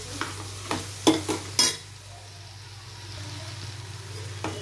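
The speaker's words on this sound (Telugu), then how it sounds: "చిటికెడు పసుపు వేసి మళ్ళీ ఒకసారి ఈ టమాటాలు ఇవన్నీ కూడా మిక్స్ అయ్యేలాగా మిక్స్ చేసుకుందామండి" Tomatoes with a pinch of turmeric stirred in a frying pan for a raw banana and tomato curry, a few distinct scraping strokes at the start over a soft, steady sizzle that carries on alone.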